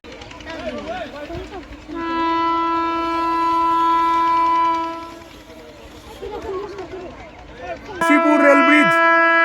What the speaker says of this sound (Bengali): আজিমগঞ্জ জংশন রেল স্টেশনের দিকে পি ফাইভ এখন দ্রুত বেরিয়ে গেল